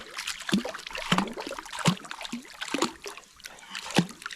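People splash around in the water at a quiet boat anchorage, producing irregular close splashes and sloshing bursts a second or so apart, with softer trickling water in between.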